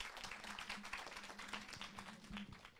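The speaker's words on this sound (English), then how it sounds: "let's give a big applause to all the speakers this morning" A conference audience at a science session on gender equity applauds the morning's speakers with steady, dense clapping that holds at an even level throughout, quiet and slightly distant.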